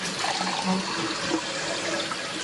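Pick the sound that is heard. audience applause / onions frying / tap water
tap water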